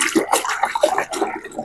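Clothes being scrubbed and rubbed by hand in a basin of water, giving close, loud sloshing and swishing in quick repeated strokes for a couple of seconds.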